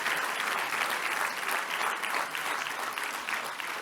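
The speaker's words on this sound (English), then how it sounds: "please help me give them a round of applause for their generosity" A commencement audience of parents and friends at INSEAD gives a steady, sustained round of applause, a dense wash of many hands clapping at once that holds evenly from start to finish, with no voices over it.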